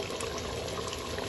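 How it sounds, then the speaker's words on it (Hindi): Water pours steadily into a pot of tender cooked beef nihari, a continuous close gushing splash with no talk over it. "अब इस मौके के ऊपर इसमें पानी ऐड कर देते हैं"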